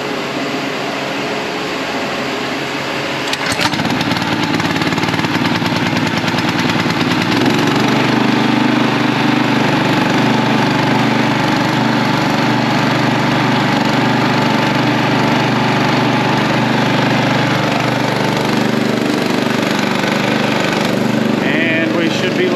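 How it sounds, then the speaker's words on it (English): A sprayer pump engine catches at about three and a half seconds and then runs at a steady, loud, droning idle for the rest of the clip, with a person talking briefly near the start. "now we should be good to fire this pump up"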